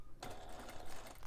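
A sewing machine runs steadily, stitching a quarter-inch seam along the top zip of a bag. The motor's whir starts abruptly and continues close and loud with no talking.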